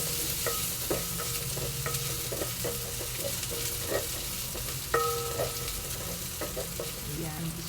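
Garlic frying in hot oil, a steady close sizzle stirred with a utensil that taps and scrapes the pan in a regular rhythm.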